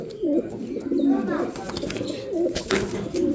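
A female cream barless pigeon coos in repeated low, rolling phrases close by, with rustling and brief scuffles between calls.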